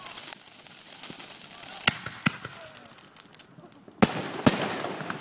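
Fireworks set off outdoors at home, with scattered sharp bangs and crackles bursting against a faint background, two loud close reports near the end following several lighter pops.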